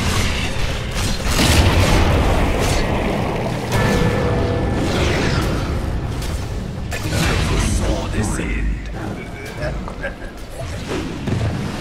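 A tower comes under attack in a Dota 2 match, with dense booming impacts, clanking mechanisms and explosive hits layered loudly throughout, over busy game effects.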